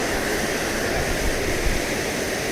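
The Amarad waterfall pours as a dense, continuous rush of water, loud and close, with no break or other sound standing out.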